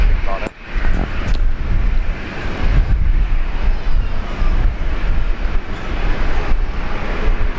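A Qantas Boeing 737 taking off from runway 01 right at Brisbane Airport, a loud, sustained jet roar close by, mixed with wind buffeting the microphone throughout.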